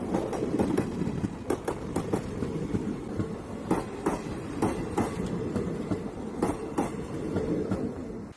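A train rolls past close by, a steady heavy rumble punctuated by rhythmic clickety-clack wheel knocks on the rails.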